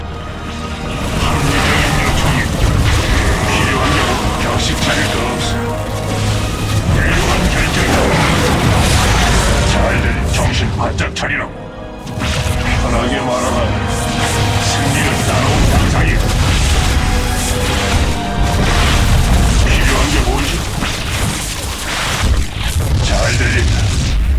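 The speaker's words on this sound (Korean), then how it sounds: "부식성 폭발을 사용하면 이 혼종의 갑옷을 갉아먹을 수 있어." Repeated corrosive blast explosions from StarCraft II, a dense, continuous barrage of loud booming impacts and crackling bursts with barely a pause, layered with game effects throughout.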